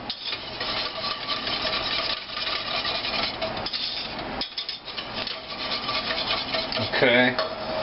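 A spoon stirs steadily in a pot while cooking, with a continuous scraping, rubbing sound that runs close and fairly loud throughout, ending in a brief clatter. Nobody speaks.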